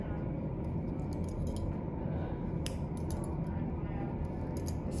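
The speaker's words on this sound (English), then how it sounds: "This is where those scissors will help you, if you get those scissors in there" Surgical scissors snip in short, faint clicks during a female dog spay, scattered over a constant low hum in an operating room.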